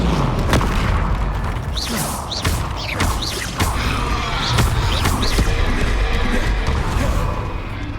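Confringo and Bombarda spell blasts from the Hogwarts Legacy video game burst in a quick series of loud, booming explosions and thuds, with crackling magical whooshes between the hits.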